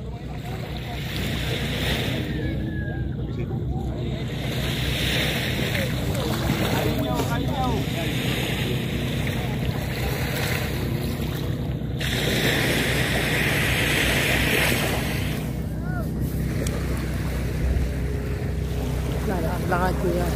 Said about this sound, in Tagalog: May parating na bangka, dalawa